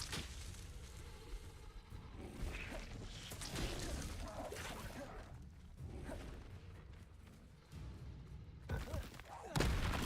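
Hogwarts Legacy gameplay with repeated Confringo fire spells blasting off in quick bursts, each a loud whooshing crack, amid dense battle effects and clashes throughout.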